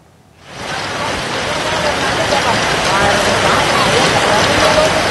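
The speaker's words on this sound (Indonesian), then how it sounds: "hujan deras mengguyur Jakarta sejak sore hari" Heavy rain pours over Jakarta as a dense, constant hiss of downpour that fades in within the first half second and then holds loud and steady to the end.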